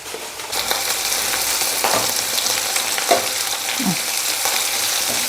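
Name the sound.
food frying in a pan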